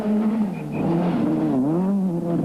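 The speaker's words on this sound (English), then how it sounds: "Maximum RPM and into fourth gear. And fifth." A rally car engine revs hard at high speed on a fast forest stage in a 1997 event, a loud, close, sustained drone whose pitch climbs, dips briefly at a gear change, then rises again.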